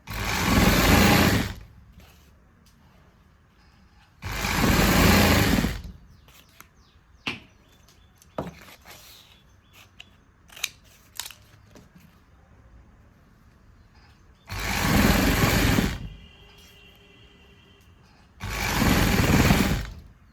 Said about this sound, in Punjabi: ਇਸੇ ਤਰੀਕੇ ਨਾਲ ਆਪਾਂ ਦੂਜੀ ਸਾਈਡ ਬੁਕਰਮ ਤੇ ਸਲਾਈ ਲਾਉਣੀ ਹੈ